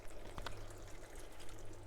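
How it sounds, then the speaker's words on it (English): Water pours into a cooking pot of vegetables for a one-pot meal, a soft, faint splashing stream with a couple of brief clinks near the start. "So I'm gonna put some water"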